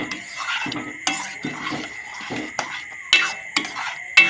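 A spoon stirs palm-fruit payesh (sweet milk pudding with ghee) in a metal pot, scraping and knocking against the sides in irregular strokes with several sharper clinks, close and clear with no talking.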